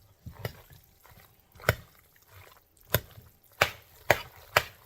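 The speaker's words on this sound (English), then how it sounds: "I'm going to keep on stirring this up" Stirring food in a big pot of pasta with beer brats and cheese: several sharp, distinct scraping knocks of the utensil against the pot, spaced irregularly over quiet bubbling background.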